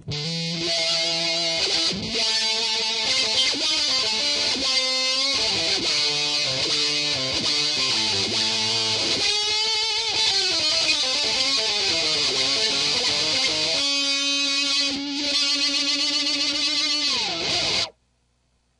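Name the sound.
guitar synthesizer pedal filter wah with harmonics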